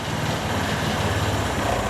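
A Vespa ET4 scooter engine idles at very low RPM with the rear wheel stationary, a steady low throbbing drone that labors slightly to keep running, close and continuous with no talk.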